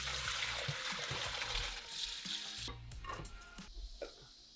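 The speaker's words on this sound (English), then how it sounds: "I forgot to drain our pasta." Water pours from a pot of cooked pasta into a kitchen sink, a soft uneven splashing and trickling with small clinks of cookware, easing off partway through.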